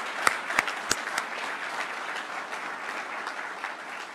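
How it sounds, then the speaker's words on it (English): Audience applause at a regional cabinet meeting, a steady crackle of many hands clapping with a few sharper near claps at the start, filling the room at moderate volume with no talking. "Let's give them all another big round of applause."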